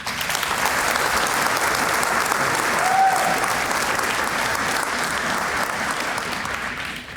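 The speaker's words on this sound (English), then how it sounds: "Let's give these students and their families a round of applause." An audience at an academic awards banquet gives a loud, dense round of applause for students and their families, sustained and even for several seconds with a slight swell in the middle and a faint brief whistle-like tone.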